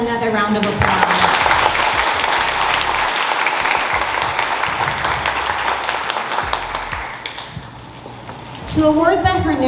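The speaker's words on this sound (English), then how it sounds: "let's give them another round of applause" Sustained applause from an audience at a high school senior scholarship awards ceremony, honoring scholarship recipients; dense, steady clapping fills most of the clip before a voice speaks near the end.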